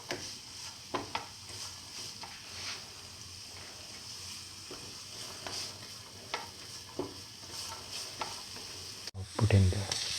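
Onion pieces frying until golden brown give a soft, steady sizzle with occasional spatula scrapes and crackles. Near the end comes a sharp knock and then a louder clatter of pan handling, with no talking.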